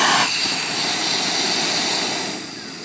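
A propane burner heats lead for casting surf weights, producing a loud, steady, close roaring hiss that fills the whole short span and eases slightly at the end, with no speech.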